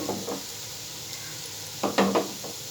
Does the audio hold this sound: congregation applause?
no